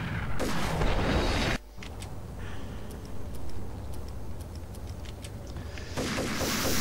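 Enemy gunfire and grenade blasts in Max Payne: a heavy burst of shots at the start, then scattered cracks and thuds under a steady rumble, before another loud volley of rapid gunfire near the end.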